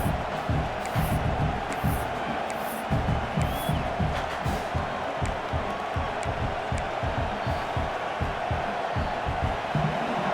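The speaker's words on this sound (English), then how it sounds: "And here comes the noise. This crowd is trying to inspire this defense to make a big red zone stop." A big stadium crowd in an American college football video game roars steadily, a dense wall of cheering and shouting with scattered whoops, loud and continuous throughout.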